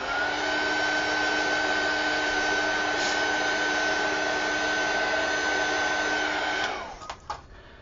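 A heat tool blows over a gessoed page in a loud, steady whirring roar that holds for nearly seven seconds, then cuts off and winds down with a few faint clicks.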